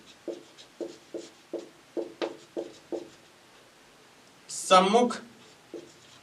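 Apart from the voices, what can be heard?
writing on the board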